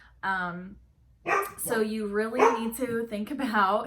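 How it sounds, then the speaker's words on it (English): Pet dogs bark and yip indoors, one short bark followed by several more mixed in under a person talking nearby. "sorry about my dogs"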